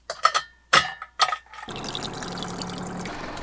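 Fresh drinks poured into double-walled insulated water bottles: a few sharp clinks and taps, then a steady close liquid pour that fills the last two seconds.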